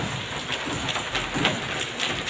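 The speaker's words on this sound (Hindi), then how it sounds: "अब बारिश अभी भी हो रही है," Steady rain falls on a summer day, a dense, even hiss with scattered drip taps, close and continuous, with no voices.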